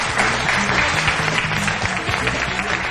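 Guests are welcomed to the pink table on a Turkish TV game show with a burst of studio audience clapping, loud and sustained from many hands, with faint background voices and music beneath.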